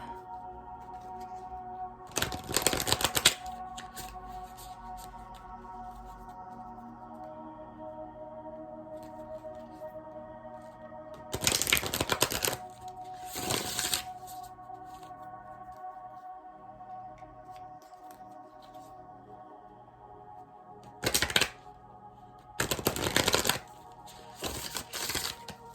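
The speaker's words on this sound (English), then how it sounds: "let's shuffle up." A deck of cards being shuffled in several short riffling bursts separated by quiet pauses, close and moderately loud over a faint steady background hum.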